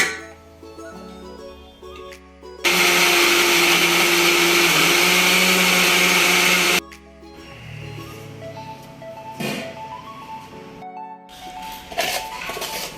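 A kitchen mixer grinder whirs loudly for about four seconds while grinding roasted coconut into chutney powder, stopping abruptly, followed by quieter clinks and shorter bursts of handling.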